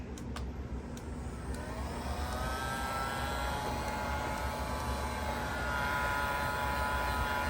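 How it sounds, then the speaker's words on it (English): A heat gun blows a steady, continuous whooshing roar while warming rubber carburetor intake boots on a 1985 Suzuki DR250, loud and constant throughout with no talking. "I'm just going to heat both of these boots up with the heat gun, just get them nice and soft"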